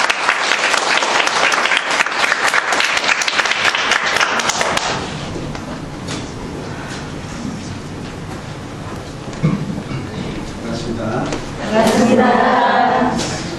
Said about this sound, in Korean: 우리 큰 박수로 모시겠습니다.